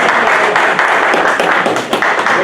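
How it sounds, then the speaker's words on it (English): Continuous, dense applause from an audience welcoming a presenter, loud and steady throughout with no talk breaking through. "Let's give Sam a round of applause."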